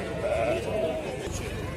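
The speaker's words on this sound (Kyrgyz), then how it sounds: "бул жанына чоң кой аябай семиз кой экен" Sheep bleating at a busy livestock market in Kurshab, a couple of drawn-out calls rising over steady crowd murmur and background chatter.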